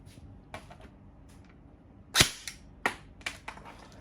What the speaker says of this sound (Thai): อันนี้ยิงได้แล้วนะครับ เรามาดูความเร็วกระสุนนะครับ